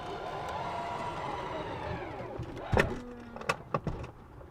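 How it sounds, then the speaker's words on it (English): A Tesla Model X power door closes at a button press: a smooth motor whir sweeps along, then a solid latch thunk and a few short clicks and knocks as it seals shut. "Press the button, the door closes."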